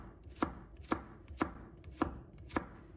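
A knife slicing garlic cloves on a cutting board, five crisp, evenly spaced chops landing about half a second apart, close and clear over a quiet background.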